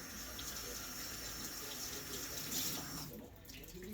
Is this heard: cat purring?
no